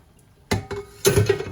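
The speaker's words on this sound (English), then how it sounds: "Okay, I'm gonna rinse it out now," Soaked soy chunks are rinsed and strained with water in a kitchen: two short, close splashing clatters of water and a metal strainer, separated by a brief pause, with no voices.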